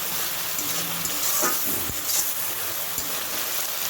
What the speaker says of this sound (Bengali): মশলাটা কিন্তু খুব ভালোভাবে কষাতে হবে অনেকটা সময় ধরে।